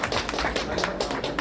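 A crowd at a Bhojpuri film trailer launch claps in a brief burst of applause, with dense, even hand claps nearby.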